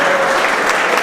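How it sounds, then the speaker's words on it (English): An audience claps in a brief, loud burst of dense applause that fills the whole moment. "Can we give them a round of applause?"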